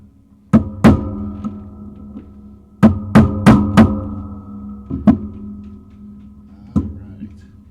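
Hammer tapping pins out of a Rock Island X4 Lion shotgun during disassembly, several sharp close metallic strikes in irregular bursts with short pauses between them, over a low steady hum.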